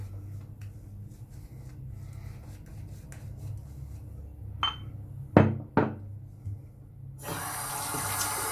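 A bathroom tap runs water to rinse shaving soap, starting with faint splashes and a few clunks before a loud, steady gush of running water near the end, no voices.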